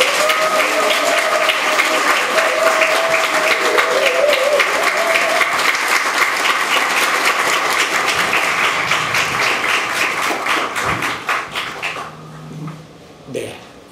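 Party members at a Democratic Party convention in Ulsan applaud the outgoing party leader, sustained loud crowd clapping for about eleven seconds that thins into scattered claps, with a speaker's voice audible early on.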